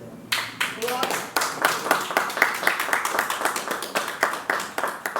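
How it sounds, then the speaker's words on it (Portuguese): A church congregation in Brazil claps in a steady, rhythmic beat of sharp, evenly spaced hand claps, with faint voices underneath. "E as palmas para o reino do céu."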